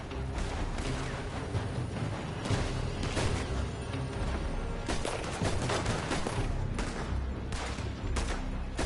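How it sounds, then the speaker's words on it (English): A dense barrage of gunfire pours from a building in the video game Red Dead Redemption 2, rapid overlapping shots and cracks continuing without pause at loud, steady volume. "They're shooting from that building!"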